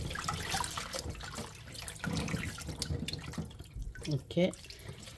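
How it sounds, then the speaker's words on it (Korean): Cold tap water runs and splashes while water dropwort is rinsed in a sink, a steady close rush with bursts of dripping and sloshing, and a voice speaks briefly. "찬물에 헹겨주고"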